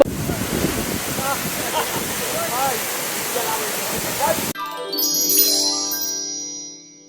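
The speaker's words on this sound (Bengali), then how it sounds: "আমরা চলে আসলাম হাম হাম ঝর্ণা" Rushing water at Ham Ham waterfall near Sreemangal, Sylhet, a loud continuous roar with wind buffeting for about four and a half seconds before cutting to a different, fading sound.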